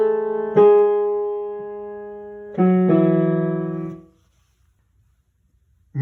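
Solo piano plays a phrase from a song: a few clear struck notes and chords that ring and decay, then fade into silence, with no talking.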